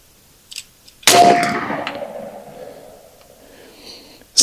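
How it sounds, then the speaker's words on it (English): A single loud, close shot rings out from an AEA Element Max .50 caliber air rifle, a sharp crack followed by a long metallic ringing decay, after a few small clicks, with another abrupt sound starting at the very end. "shoot the gun."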